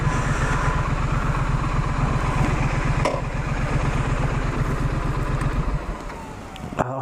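A Triumph Street Scrambler motorcycle idles close by, its steady low engine thrum and exhaust pulse running the whole time, with a brief sharp click near the middle and a slight drop in level toward the end.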